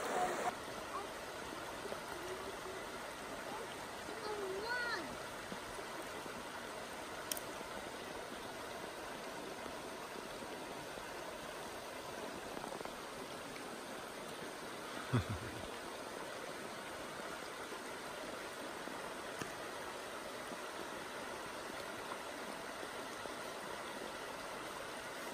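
Creek water flows steadily with a constant rushing burble, joined by a brief soft thump partway through.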